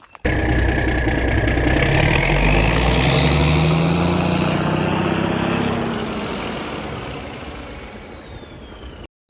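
A truck engine drones loudly and steadily on a winter road trip, its pitch rising as it accelerates, then easing off and fading gradually before cutting out.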